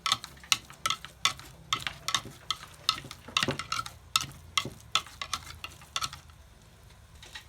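Guacamole of avocado with cilantro, lemon and a pinch of salt being mashed in a bowl, a close run of irregular wet squelches and sharp taps that slow and thin out toward the end.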